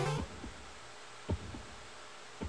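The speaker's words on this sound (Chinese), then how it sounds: "为什么我有心跳声？" Heartbeat effect in Super Mario Maker 2: soft, low double thumps repeating at a slow, steady pace about once a second, quiet and alone after a brief opening sound.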